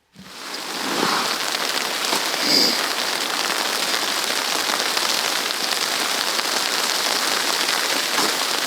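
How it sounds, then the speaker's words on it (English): Steady rain pattering on a surface in the Swedish mountains, a dense continuous hiss of drops that holds at an even level from start to finish. "It's raining. Not snowing. Raining. It's water."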